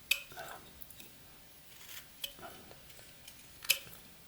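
A knife whittles a small wooden gnome miniature, giving a few faint, scattered scraping cuts and light ticks, close up and quiet, with no talking.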